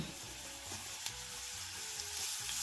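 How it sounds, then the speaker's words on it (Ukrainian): Steady oil sizzle of onion and carrot frying in a pan, a continuous crackling hiss with occasional soft stirring clinks, close up and fairly quiet. "Спочатку в олії смажимо рібчасту цибульку, смажимо одну-дві хвилини і відразу додаємо подрібнену моркву."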